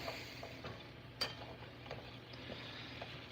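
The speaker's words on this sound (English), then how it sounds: "we're kind of like frying these up as if they were potatoes, but they're radishes" Radishes and hot sausage fry in a pan with a steady, soft sizzle, broken by occasional light pops and stirring clicks, close by and with no talking.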